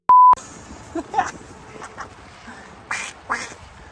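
A short electronic beep opens, followed by scattered duck quacks heard from a canoe on the water, a few close ones near the end, with light background noise.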